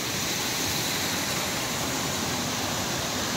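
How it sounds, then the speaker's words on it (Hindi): Damera waterfall in Jashpur, heard from below: a dense, steady rush of falling water that stays loud and unbroken throughout. "वाटरफॉल को नीचे से दिखाता हूँ।"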